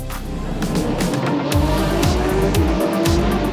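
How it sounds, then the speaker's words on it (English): GT3 race cars, a Mercedes-AMG leading a pack of Porsches, roar away from a green-light start at the Jerez circuit, with loud continuous engine noise and rising gear-change sweeps as several cars accelerate past. "The lights go green, and Basch in the AMG stays ahead of the field."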